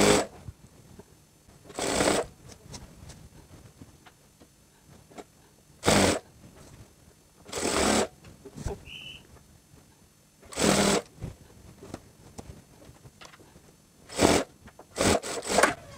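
A sewing machine stitches elastic into a skirt waistband, the fabric gathering as it runs. Several short, loud bursts of stitching are separated by quiet pauses, with no talking.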